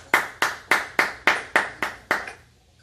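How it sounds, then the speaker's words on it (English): Eight evenly spaced, crisp hand claps ring out with a short room decay, heard through a video call during an online Sunday church service. They fade out at the end, and no voices are heard. "Can you guys give them a big round of applause?"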